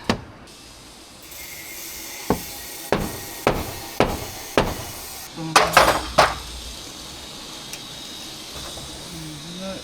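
A hammer taps a soffit fixing about six times at a steady pace, followed by a quick cluster of sharper metallic knocks, with quiet background noise in between.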